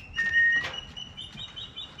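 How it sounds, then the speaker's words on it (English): A person's whistle used to signal a turkey vulture at a birds of prey rescue center: a short, steady, thin tone followed by faint bird chirps in a quiet setting. "And then I whistle."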